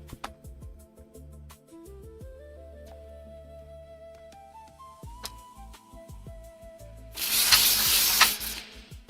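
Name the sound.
heat gun blowing hot air on Xbox 360 slim GPU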